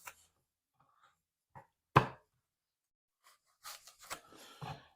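Onions chopped with a knife on a board for carrot soup: a few sparse, sharp isolated knocks, one loud strike near the middle, then a cluster of quicker, busier cuts toward the end, close and dry against otherwise quiet surroundings.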